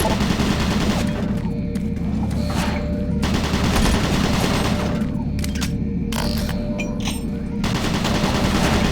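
Sustained rapid fire from automated turret guns in DOOM 3: BFG Edition, loud and continuous, with a few short gaps and booming impacts over a deep mechanical drone.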